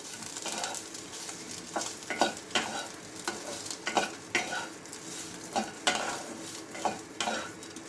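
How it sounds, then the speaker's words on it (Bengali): Soybean chunks fry and sizzle in homemade ghee in a pan, with repeated stirring scrapes and clatters over a continuous crackle, close and moderately loud with no speech. "এই সয়াবিনটা ঘিয়ের মধ্যে ভাজলে একটা অন্য রকমের সুন্দর গন্ধ বেরোয়।"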